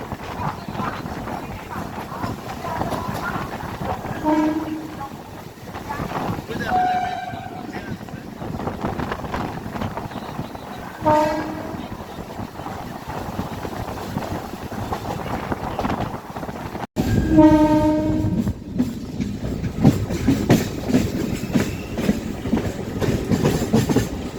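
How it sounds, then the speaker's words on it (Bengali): A local train on the Krishnanagar–Sealdah line rumbles and clatters steadily as another train approaches, with horn-like tonal blasts sounding several times and a louder burst of rolling noise in the last part. "আরও একটি ট্রেন এগিয়ে আসছে"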